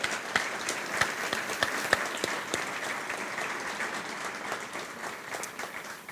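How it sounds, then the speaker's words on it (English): A high school audience applauds at a ribbon cutting ceremony, many hands clapping in a sustained, even round with a few sharper nearby claps, gradually tapering toward the end. "Please give them a round of applause"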